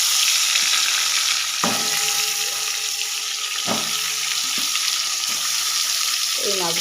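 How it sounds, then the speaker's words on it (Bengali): Pangas fish frying in hot oil gives a steady, close sizzle with a few sharp clinks of a utensil against the pan. No voices are heard. "এই মাছগুলোকে আমি ভালো করে ভেজে নেব।"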